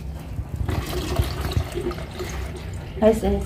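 Water splashes and pours over fresh bata fish being washed in a bowl, a steady wet rush with a brighter splash near the end, mixed with nearby voices talking.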